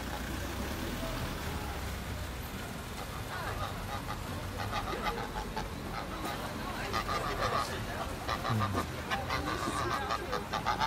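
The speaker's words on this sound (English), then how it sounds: "We saved the geese, ladies and gentlemen." Geese honk outdoors on a road in York, scattered repeated calls rising over a dull background of traffic and crowd noise.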